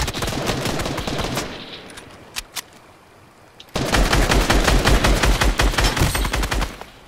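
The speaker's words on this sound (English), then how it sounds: "Where is he shooting you from?" Rapid bursts of gunfire in the battle royale game Fortnite during a Chapter 2 Season 1 duo match, dense repeated shots with a few isolated cracks in a quieter stretch before heavy sustained firing resumes.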